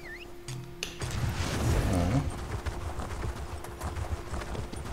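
Hoofbeats of a ridden horse clip-clop steadily in Elder Scrolls Online, a quick rhythmic patter that swells briefly alongside a few game effects, with no speech.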